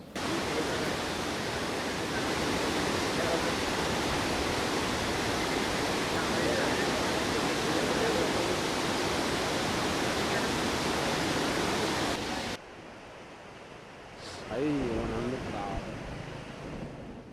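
Flood water of the Vedganga river pouring over a submerged low-level bridge, a loud, continuous rushing roar that cuts off abruptly near the end, leaving quieter ambience with a brief voice.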